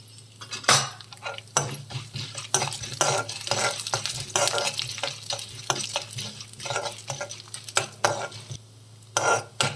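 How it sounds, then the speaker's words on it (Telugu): Chana dal and urad dal frying in a pan, with a continuous crackling sizzle broken by frequent clinks and scrapes of a spoon stirring against the metal, close and busy throughout with no talking. "కొంచెం శనగపప్పు, కొంచెం మినపప్పు. ఇవి కొంచెం వేగాక జీలకర్ర వేసుకుందామండి."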